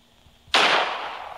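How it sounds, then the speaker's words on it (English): A single shotgun blast goes off in the horror video game Granny: a sudden loud crack that falls away into a short noisy tail. "We're going to shoot Grans."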